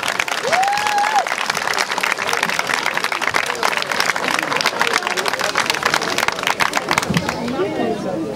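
An audience at an outdoor morning brass band concert in Hagenburg applauds the band, steady loud clapping throughout with crowd chatter and a cheer or whistle mixed in.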